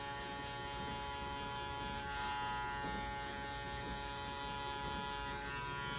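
Electric hair clippers with the lever fully closed buzz steadily while fading hair, giving a close, continuous drone with slight shifts in tone as the blade moves, and no talk.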